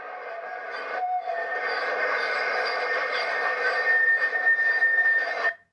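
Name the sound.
train or tram screeching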